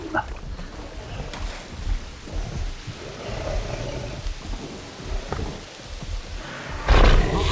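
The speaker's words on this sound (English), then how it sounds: "I got distracted by the rain." Steady rain hisses through a Jurassic World Evolution park, with low rumbling thunder and a distant dinosaur roar beneath it, swelling into a louder burst near the end.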